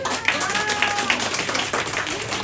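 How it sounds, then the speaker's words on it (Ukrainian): An audience at a year-end brunch gathering applauds, producing a dense, continuous patter of many hands that is close and fairly loud, with some voices mixed in. "Давайте аплодисменты, ей."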